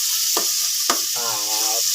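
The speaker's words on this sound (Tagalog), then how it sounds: "Balikan natin ang ating ginigisang sibuyas," Onions, garlic and tomatoes sizzle in a pan, a steady close hiss with two brief scraping stirs.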